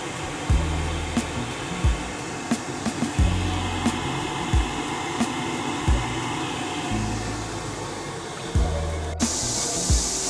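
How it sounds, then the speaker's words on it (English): A domestic gas boiler fan whirring steadily as it modulates down, close and continuous, with a blocked plate heat exchanger, regular low clicks and pulses repeating through it, and a brief brighter hiss near the end. "And the fan's modulating down."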